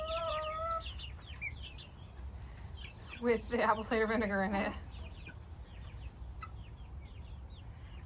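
Backyard chickens cluck softly and intermittently on a farm, with a louder burst of clucking midway, while a person talks over the birds.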